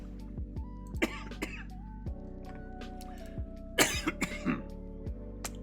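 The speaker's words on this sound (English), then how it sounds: "I can't stop coughing now" Several short throaty coughs and throat clearing, close to the mic, in two clusters with quiet gaps over a low steady hum.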